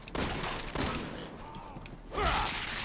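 Gunfire in the Resident Evil 6 demo as Leon, with loud bursts of shots aimed at a zombie's legs, coming in several close, dense volleys over continuous game noise.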